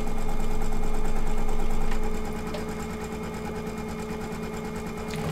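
An embroidery sewing machine stitches a fabric bookmark down, a close, rapid mechanical rattling hum that runs loud for two seconds, then continues more softly at a steady pace.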